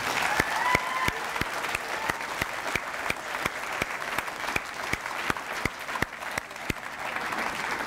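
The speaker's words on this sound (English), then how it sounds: "how about one last big round of applause for our 5 signees" A small audience at a school letter-of-intent signing ceremony gives a round of applause, the hand claps sharp and fairly sparse, steady and close throughout.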